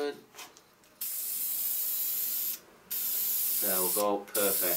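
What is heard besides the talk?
spray can spraying finish onto a wooden handle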